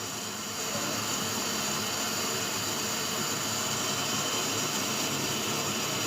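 Gas stove flame turned up high under a pot of chana dal and chicken kofta, a steady broadband roaring hiss that swells slightly after the first half second and holds constant.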